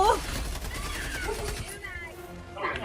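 Helldivers 2 video game gunfire rattles in rapid bursts under an excited voice talking over it, with the shots fairly faint and mixed into game sound.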